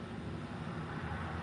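Low, constant engine drone of a nearby garbage truck, soft and even throughout the short stretch, with no speech over it.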